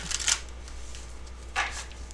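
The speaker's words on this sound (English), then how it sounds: "That was not a good shuffle." A deck of tarot-style cards being shuffled, two quick riffling bursts separated by a brief lull, close and fairly soft with no talking.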